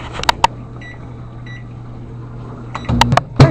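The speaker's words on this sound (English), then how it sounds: "Now I'm going to set this in the microwave for about 20 seconds." Microwave oven running for about twenty seconds to lightly soften butter for cookie dough, a steady low hum throughout, with a few sharp beeps and door clicks at the start and end.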